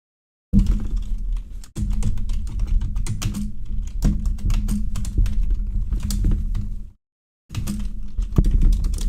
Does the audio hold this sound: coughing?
no